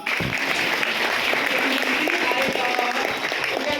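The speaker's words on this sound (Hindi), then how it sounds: "जोरदार ताली बजाइए।" A church congregation at a Palm Sunday meeting claps loudly in steady, sustained applause that fills the whole stretch, with a few voices faintly mixed in.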